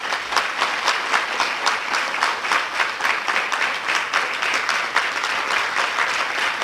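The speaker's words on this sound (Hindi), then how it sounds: "तो इन बहनों के लिए सभी एक बार ताली बजाएंगे।" An audience claps together for a group of sisters at a spiritual gathering, a steady continuous round of applause with a lively rhythm, loud and without speech.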